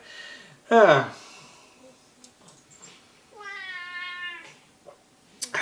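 A cat lets out a short, sharp meow, followed after a pause by a longer, drawn-out meow, with quiet room noise and faint movement around it.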